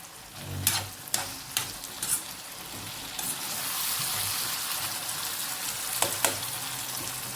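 Tomato masala for Punjabi-style chole, fried to golden brown in a pan, sizzles loudly while a spoon stirs and scrapes it in several sharp strokes; the frying settles into a steady hiss between strokes.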